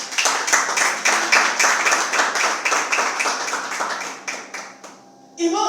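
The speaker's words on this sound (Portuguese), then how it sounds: "Palmas para Ele que Ele merece." Church congregation clapping hands at a Sunday service, a steady run of rhythmic claps from many people that thins out and stops near the end.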